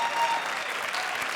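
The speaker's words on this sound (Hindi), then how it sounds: "जोरदार तालियां" Loud studio audience applause on a TV comedy show, a dense wash of clapping that holds steady at full strength for the whole moment.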